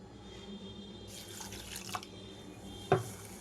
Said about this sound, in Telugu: ఒక పావు కప్పు వరకు వాటర్ వేస్తున్నాను